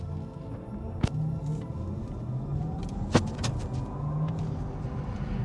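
A Porsche Taycan Turbo S electric car accelerates in a short burst, giving a soft rising electric hum over road rumble inside the cabin, with a couple of sharp knocks and no speech.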